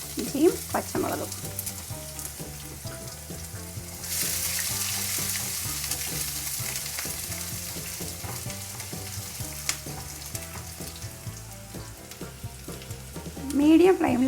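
Ginger and green chillies fry in hot oil with popped mustard seeds and roasted gram, giving a steady close sizzle for about fourteen seconds that swells when they go in, with light stirring clicks and no talking.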